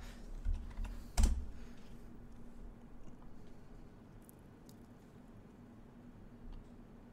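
A few quick keystrokes on a computer keyboard as a password is entered, clustered in the first second or so, then a low steady hum and faint room noise.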